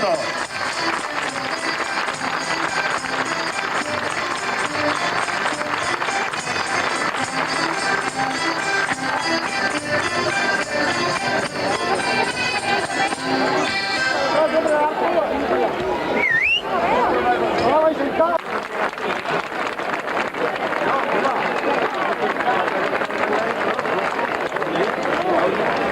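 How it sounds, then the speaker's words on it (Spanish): A large outdoor crowd at a folk dance record event applauds the dancers with sustained dense clapping and cheering that fades after about fifteen seconds, followed by murmuring crowd noise. "Un aplauso para todos en conjunto."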